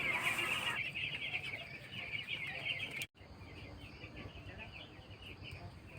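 Week-old broiler chicks on a poultry farm, a dense chorus of high peeping chirps near and continuous, with a voice talking over them.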